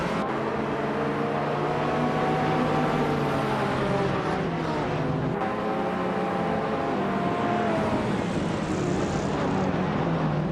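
Several racing cars in a video game race at the Aintree Vintage track, led by a 1978 BMW M1, make a loud, continuous engine drone whose layered pitches rise and fall as the cars accelerate and shift. No one speaks.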